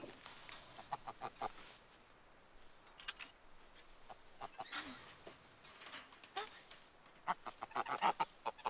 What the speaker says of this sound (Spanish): Esos gansos no son míos, son de Aitor.